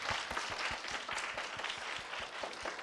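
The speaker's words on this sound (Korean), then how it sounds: "한 번 더 큰 박수 주시죠" Audience clapping at a summer youth camp concert, a light, quick patter of many hands with close individual claps, steady and moderately faint in an indoor hall.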